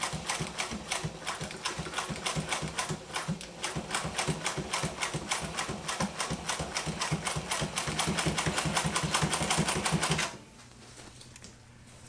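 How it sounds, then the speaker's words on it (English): A sewing machine runs steadily and rapidly for about ten seconds, stitching webbing with a side release buckle onto a 1000 denier Cordura bag, then stops, leaving a quiet room. "I sewed webbing with a side release buckle to the top of the bag"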